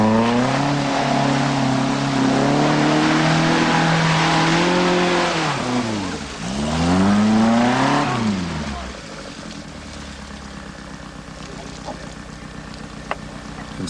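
A modified, lightened rally car works through a hazard section at a 1985 event in Dunedin, its engine droning loudly, revving and dipping in pitch, then fading away to quieter ambience.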